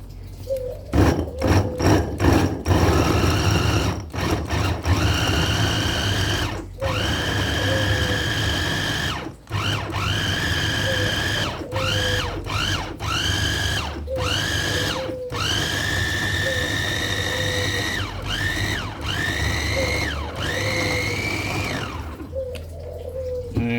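Electric food chopper grinding shallots for Balinese basa genep spice paste: a loud, close motor whine that starts and stops in repeated pulses, its pitch rising as each burst spins up, with no talk.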